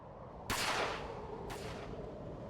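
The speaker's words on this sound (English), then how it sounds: "A gunshot tore through the dark night." A gunshot rings out in the Chaos;Head NOAH visual novel, one sharp broadband crack followed by a second, lighter burst a second later, both over a steady low background hum.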